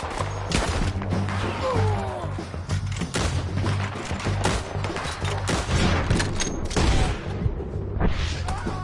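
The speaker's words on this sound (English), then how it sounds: "Keep shooting till they don't get up!" Gunfire during a shootout in Red Dead Redemption 2, a dense continuous fusillade of overlapping shots and thuds, loud and close, with shouting voices underneath.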